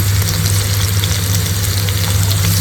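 Chopped onion and capsicum frying in a pan while pizza toppings are made, a loud continuous close sizzle with a steady low hum beneath it and no talking.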